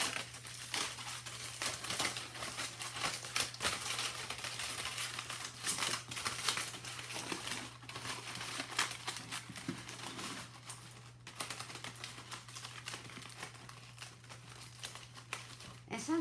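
Toilet paper or tissue is crumpled and crinkled steadily for a rough craft texture, a continuous close papery rustle over a low electrical hum.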